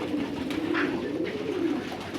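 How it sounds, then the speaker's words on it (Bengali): Omani pigeons coo in a small room of a pigeon farm in Qatar, soft low rolling coos overlapping close by with no talking. "কবুতরগুলো অনেক সুন্দর।"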